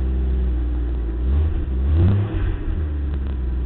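A Jeep engine revs loudly and steadily up close, its low rumble swelling around the midpoint before dropping back to a rough idle-like drone.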